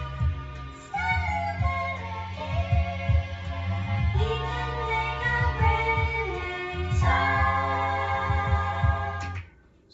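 The high part of a sampled beat with the drums taken out: layered sustained melodic tones and a wavering lead line over soft low pulses, playing steadily and alone before cutting off abruptly.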